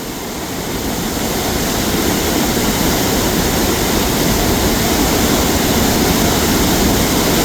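A broad, roaring rush of water pours over a lake spillway at Clearwater Lake, a loud, steady wall of noise that swells in the first second and then holds constant with no talk.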